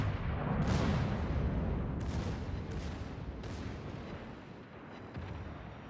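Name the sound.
naval artillery fire in World of Warships video game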